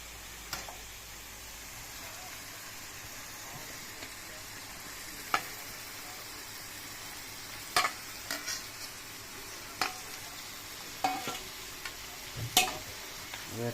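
Chicken and potatoes frying in a pan for an Assamese home-style chicken curry, a soft steady sizzle with intermittent sharp clicks and scrapes of stirring.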